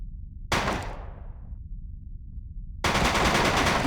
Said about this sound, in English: Let's try out a submachine gun.